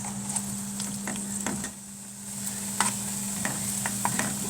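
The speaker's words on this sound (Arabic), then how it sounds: "انا جايبه طاسه وحطيت فيها معلقتين زيت، واحط فيها شويه توم" Garlic frying in a couple of spoons of oil in a pan, a light steady sizzle over a low constant hum, with scattered clicks and scrapes of stirring, near and fairly quiet, no voices.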